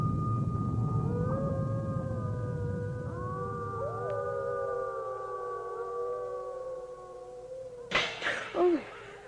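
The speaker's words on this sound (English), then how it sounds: "Except some brutes howling." Several animals howl in a BBC radio drama, long sustained wailing calls that overlap and slowly rise and fall in pitch, with a short burst of louder, harsher yelps near the end and no talk.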